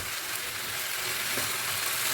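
Steady, loud sizzling of food frying in a hot pan, a continuous crackling hiss with no voices.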